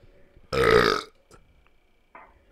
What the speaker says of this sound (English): That was such a powerful burp, though, dude.